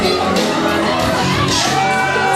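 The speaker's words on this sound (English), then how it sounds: "we hear the ever-vocal crowd here at Top Rope Promotions in New England Ring Wars" Vocal crowd at a Top Rope Promotions New England Ring Wars wrestling event, cheering and shouting in overlapping bursts, close and loud, with some whoops rising above the din.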